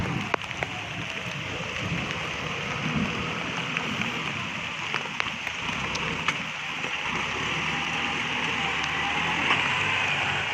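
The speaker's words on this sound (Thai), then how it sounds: "ฝนตกครับฝนตก" Heavy rain pours steadily over a field where a Kubota MU5702 tractor is working, a dense broadband hiss with scattered sharp drop hits and a faint low rumble suggesting distant thunder.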